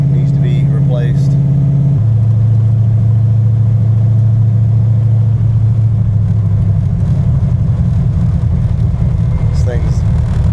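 A vehicle engine, said to have a worn universal joint and driveshaft trouble, drones and revs steadily while driving, a loud continuous rumble with a pitch shift early on, with faint speech in places.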